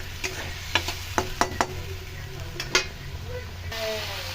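Spice mixture sizzling faintly in oil for a vegetarian papad dalna, sugar added, with a spatula scraping and knocking the pan in scattered clicks over a low, steady hiss.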